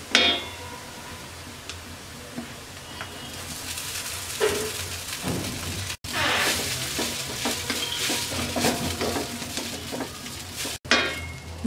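Flattened rice (chira) tipped into a pan of frying vegetables for vegetable chira polao, with a sizzling hiss and clattering stirring and scraping against the pan, close and fairly loud, no talking.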